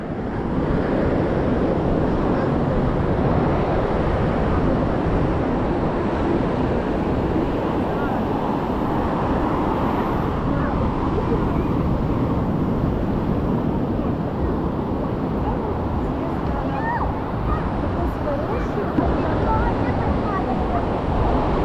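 Ocean waves at a Sri Lankan beach make a continuous roar of surf mixed with wind buffeting the microphone, loud and unbroken throughout.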